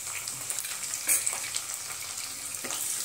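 Mustard seeds, cumin and chillies crackling in hot oil for paneer bhurji, a steady close sizzle with a few brief sharper pops and one louder clink.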